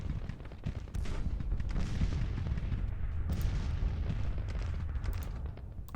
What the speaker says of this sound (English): Look at all that artillery.